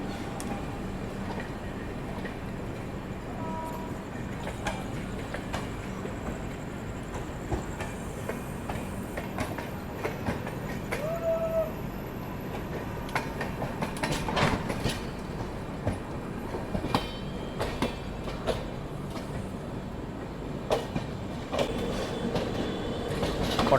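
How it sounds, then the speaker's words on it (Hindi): Passenger train arriving at a busy platform at night, a continuous rumble of rolling cars with wheel clatter and occasional metallic squeals, surrounded by station crowd noise. "प्लेटफॉर्म नंबर 7 पर अपनी ट्रेन आ रही है"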